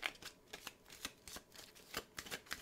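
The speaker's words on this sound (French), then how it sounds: "Je vais mélanger les cartes loot." A deck of loot cards from a solo dungeon-crawler board game being shuffled by hand, a series of soft riffling bursts and card slaps in quick irregular rhythm, close and quiet with no voices.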